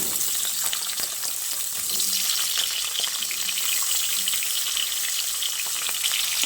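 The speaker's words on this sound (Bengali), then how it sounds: "এবার তেল ভালোভাবে গরম হয়ে এলে আলু আর মূলোটাকে একসঙ্গে দিয়ে দিচ্ছি।" Potato and radish sizzle steadily in hot mustard oil, a dense, even frying hiss that carries on throughout with faint scraping of stirring beneath.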